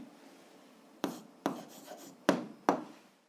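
An answer to an algebra exercise is written by hand: a pen scratches on paper in four distinct, close strokes, separated by short pauses, ending in quiet.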